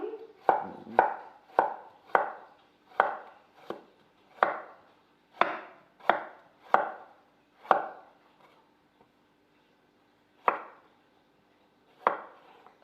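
Crisp knife chops through carrot on a board, a quick series of about a dozen close, sharp strikes with short pauses, then two more after a gap.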